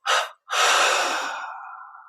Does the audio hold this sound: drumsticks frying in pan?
no